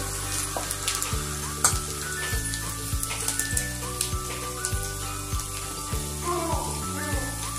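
Chopped garlic and asafoetida frying in hot oil for a Maharashtrian matki rassa bhaji, a soft continuous sizzle with small crackles under faint background music, no talk.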